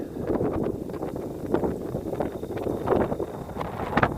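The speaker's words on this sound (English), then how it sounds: "Pretty windy up here." Gusty wind buffets the microphone in uneven, rumbling bursts on a Colorado mountaintop, moderately loud, with no voices.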